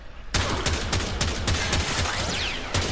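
A Tiberon Prime rifle in the video game Warframe fires semi-automatic shots, roughly eight sharp, loud reports spaced a few tenths of a second apart over a steady bed of game noise.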